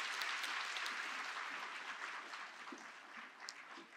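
A church congregation at a special early-morning revival service applauds the worship team, a steady, fairly distant wash of many hands clapping throughout.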